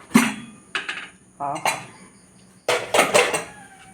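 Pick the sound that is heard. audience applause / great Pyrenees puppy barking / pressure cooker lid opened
pressure cooker lid opened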